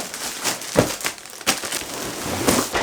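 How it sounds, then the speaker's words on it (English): A giant plastic bag crinkles and rustles in repeated bursts while a camera backpack is unpacked from it, up close and alone, with sharper crackles around the grabs and a steady rustling bed between them. "First things first, it's in a giant plastic bag."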